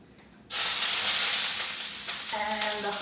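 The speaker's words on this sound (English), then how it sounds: "In go the onions." Onions hit a hot non-stick pan with a sudden loud, steady sizzle of frying that holds close and bright for a few seconds, with faint clinks near the end.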